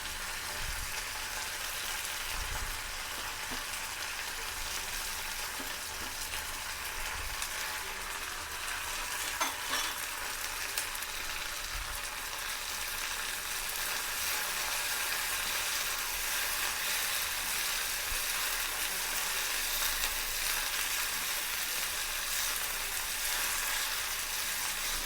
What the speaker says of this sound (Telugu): ఎక్కువసేపు వేగి పని లేదు, మెత్తబడితే ఇలాగా ఆయిల్లోని కొంచెం మగ్గినట్టయితే సరిపోతుంది